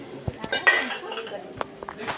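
Household utensils clatter and clink as they are handled, a few sharp metallic knocks and scrapes close by, with a voice speaking over them.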